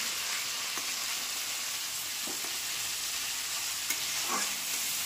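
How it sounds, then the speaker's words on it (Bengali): Chicken stirred in hot mustard oil in a pan, a steady close sizzle with a few soft spatula knocks scattered through it. "দিয়ে ভালো করে এটা একটু নাড়িয়ে নেব।"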